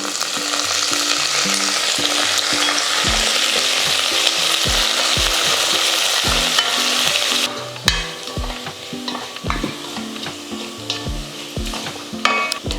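Onions and curry leaves fry and are stirred in a pan for a mango curry: a steady loud sizzle, joined after a few seconds by repeated spoon scrapes and knocks. The sizzle thins out toward the end.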